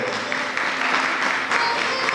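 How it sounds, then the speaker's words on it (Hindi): An audience at a Shrimad Bhagwat katha in Vrindawan applauds to honour Saroj ji, loud dense clapping from a large crowd that fills the whole short stretch without pause. "उनके लिए तालियों से सत्कार करें मानो"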